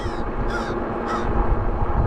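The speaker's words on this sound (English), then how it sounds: "Crow yelling at me." Crows caw outdoors along a ridge trail, two harsh calls spaced about half a second apart over steady ambient background noise.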